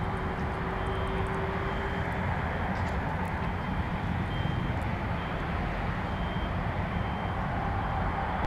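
A Delta heavy jet airliner taxiing at MSP airport gives a steady broad engine roar at a distance, with faint intermittent beeps and ambient airport noise.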